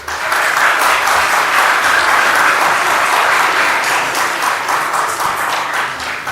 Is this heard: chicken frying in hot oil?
no